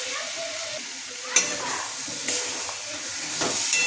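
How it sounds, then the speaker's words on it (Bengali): Onion paste and ground spices fry in a pan while being stirred, making a steady sizzling hiss broken by several sharp scrapes and clatters of the spoon against the pan. "পেঁয়াজ বাটা দিয়ে কষিয়ে মিক্সির মশলাটা দিয়ে দেব।"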